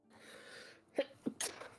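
A single sneeze, close and fairly quiet: a short breathy intake, then a sharp burst and a hissing release.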